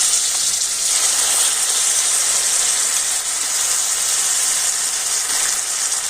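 A poppy seed and cashew paste masala, just splashed with a little water, sizzles and hisses loudly and evenly in a pan for the whole stretch, with no voices.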